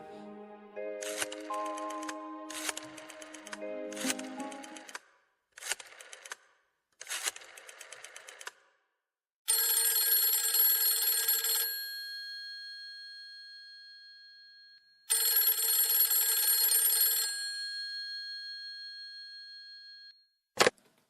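A telephone is dialed with a string of short electronic button beeps, then rings in two long, bright electronic bursts separated by silence, ending with a click.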